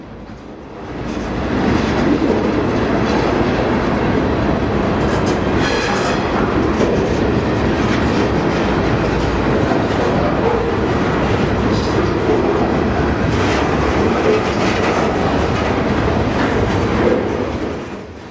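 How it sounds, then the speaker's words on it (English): A long freight train of box cars rolls past loud and close, a constant heavy rumble with rhythmic clatter of wheels over rail joints and occasional metallic squeal. "These are perhaps the best known of the cars on a freight train, box cars."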